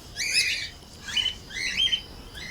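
Small caged birds chirp and squawk near feeding plates in a bursty, repeated pattern, with several shrill calls close by and fairly loud over a quiet background.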